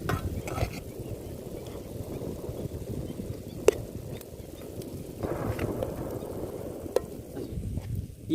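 Fish coated in masala frying in a pan over high heat outdoors in a village, giving a steady dense sizzle and crackle throughout with a couple of sharp clicks.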